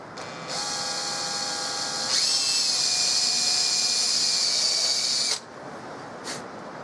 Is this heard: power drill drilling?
yes